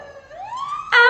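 An ambulance siren wails upward in a rising sweep, then jumps into a loud, harsh tone near the end, close and alone.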